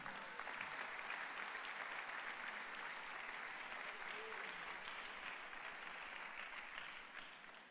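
Sustained applause from a church congregation, steady dense clapping throughout that fades slightly toward the end.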